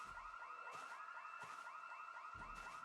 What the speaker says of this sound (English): Sounds like a car alarm more than a house alarm.